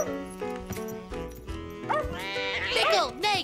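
Small cartoon dog yapping with several quick, bright barks and excited yips over a busy musical score, fairly close and lively in an animated scene.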